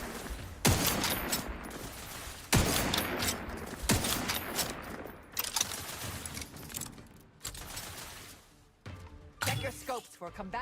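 Heavy gunfire in The Outer Worlds 2 sci-fi shooter game: loud sustained bursts and volleys with sharp onsets, pausing briefly between salvos, with faint game voices mixed in.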